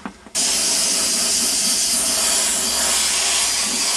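Airbrush spraying paint onto a T-shirt stencil, a loud, continuous, close hiss that starts abruptly after a brief quiet moment and holds steady throughout.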